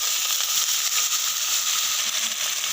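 A splash of water poured into a hot pan holding catla fish head, cumin paste and spices erupts into a loud, close, steady hiss and sizzle that fills the whole moment, with no talking.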